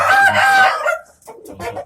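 A rooster crows loudly and close in a chicken coop on a poultry farm, one long strained call followed by shorter clucking from the flock.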